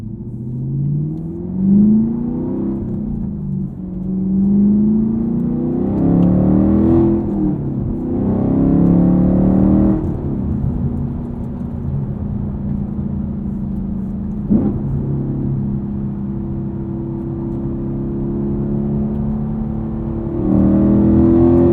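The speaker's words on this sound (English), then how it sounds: "If you need a V8 in your lives," A V8 engine revving, its throaty rumble rising and falling through several throttle blips before settling into a steady, loud idle, close by with no talking.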